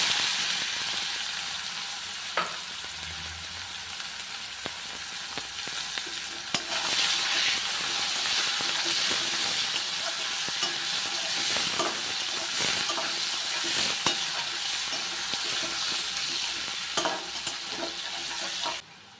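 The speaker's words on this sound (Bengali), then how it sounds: "পেঁয়াজ হালকা ভাজা হয়ে গেছে" Onions fry briskly in hot oil in a pan used for katla fish curry, a loud continuous sizzle with intermittent stirring scrapes and spatula knocks throughout.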